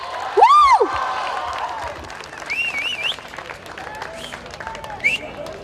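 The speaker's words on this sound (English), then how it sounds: "A big round of applause" Crowd at a school band competition applauding and cheering for a band, loud clapping with whoops and shouts, and a voice over the top.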